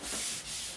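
Cork rubbing wax into a cold race ski base, a short, smooth, close scrubbing rasp in two quick strokes.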